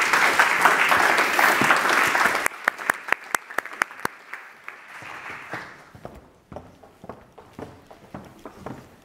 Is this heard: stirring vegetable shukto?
no